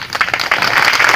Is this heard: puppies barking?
no